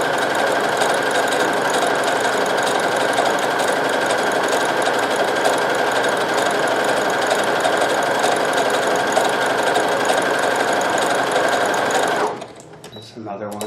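A Brother CP7500 sewing machine stitches at a fast, steady whir, loud and close, running unbroken for about twelve seconds before stopping abruptly, leaving faint clicks.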